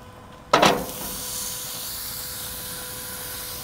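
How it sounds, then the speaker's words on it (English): A burger patty hits a hot grill beside melting cheese, giving a sudden loud hiss that settles into a steady, close sizzle running to the end. "I'm gonna add the burger to the other side of the grill."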